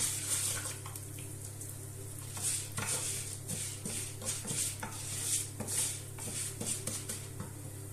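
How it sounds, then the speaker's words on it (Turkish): Vermicelli roasting in a pan on low heat, stirred with repeated scraping and clinking strokes over a faint steady sizzle and low hum, no speech. "Şehriyemizi kavuruyorum yavaş yavaş"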